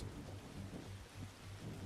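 Steady heavy rain falls during a violent storm in The Riftbreaker, with a low thunder rumble pulsing beneath the constant hiss, brief and unbroken.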